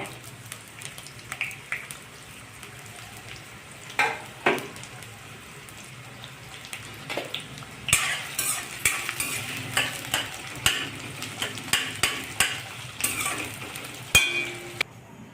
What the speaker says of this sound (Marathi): कांदा असा लाल तेलात परतून घेणे खोबर पण लाल भाजून झालं आहे